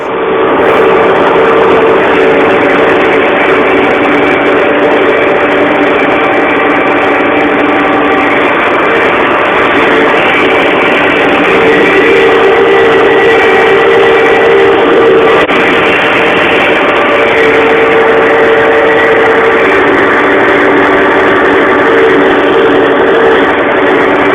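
A steady, loud Ursus 1614 tractor engine idles continuously with a low, even drone and no voices, holding the same rumble throughout.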